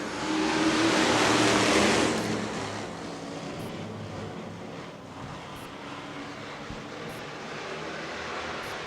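Race cars accelerate from the green flag start of a Super Street heat at an oval track, a loud swelling roar of several engines at first that settles into a steady, more distant drone as the pack moves away.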